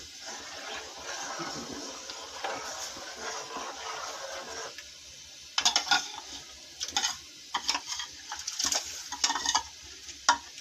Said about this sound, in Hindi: ये थोड़ा थोड़ा करके हम इसमें चावलों को शामिल करते जाएंगे, चम्मच चलाते जाएंगे